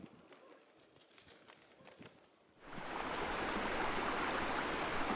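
The lively Mesta River in the Rhodope mountains of southern Bulgaria rushes past a wild camp, faint at first with bird sounds, then swelling into loud, steady water noise close by.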